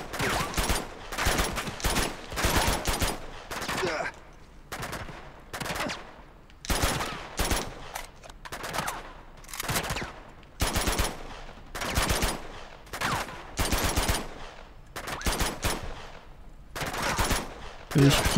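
Bursts of automatic gunfire in Uncharted 2: Among Thieves, loud rapid volleys repeating in clusters with short pauses between, close and dominant throughout.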